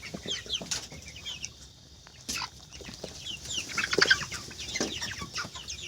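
Several chickens with coryza cluck and squawk in scattered bursts at close to moderate distance, with occasional wing flaps and soft farmyard background noise.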